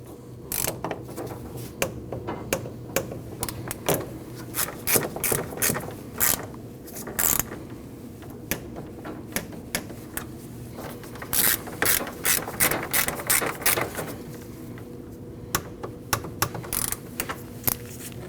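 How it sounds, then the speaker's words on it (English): A ratchet tightening the radiator bolts on a 2012-2021 Nissan NV2500 5.6L V8, rapid clicking runs repeating in bursts close to the microphone, with brief pauses between strokes over a low steady background hum. "Now we can tighten those bolts down and torque them at 71 inch-pounds."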